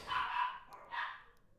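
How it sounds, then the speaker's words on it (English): Dogs bark at a distance indoors, two short yelping barks about a second apart with no voice over them. "Sorry if you hear my dogs barking."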